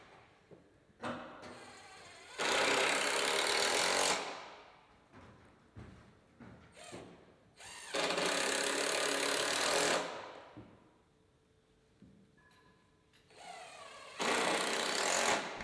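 Power driver running zinc-plated 10 by 2.5 inch screws through a plate into the underside of gazebo rafters during pagoda assembly: three loud sustained bursts of motor whir, each about two seconds, separated by quieter handling knocks and clicks.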